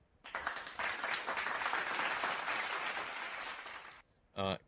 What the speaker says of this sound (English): All right, there's an applause.